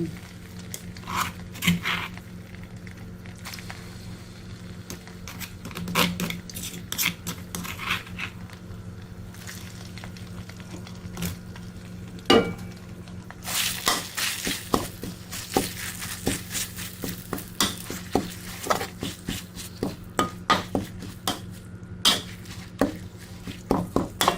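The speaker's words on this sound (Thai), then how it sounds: "ใส่เครื่องแกงที่เรา ใช้ตำไว้คั่วนะคะ นำมาลงผัดกับน้ำมัน" Homemade pounded Thai curry paste stir-fried in oil in a pan over low heat, with soft sizzling and repeated scraping and clinking of a utensil against the pan, growing busier partway through.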